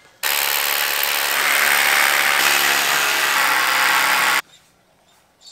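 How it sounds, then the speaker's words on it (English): A power drill bores bolt holes about 50 mm deep with a smaller bit while building a steel-frame lean-to carport at an off-grid shed, running loud and steady for about four seconds before stopping abruptly. "I drilled about 50 mil deep with the smaller drill bit"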